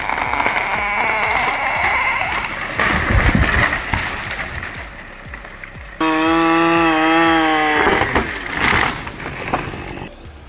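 A Husqvarna 560 XP chainsaw runs hard through a tree trunk with the bar buried deep, a loud continuous buzzing drone. Partway through, the engine shifts to a clearer, higher revving whine.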